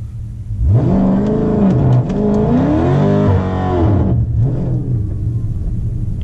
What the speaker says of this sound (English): Let's try heating up the tires this time, just a little bit of heat.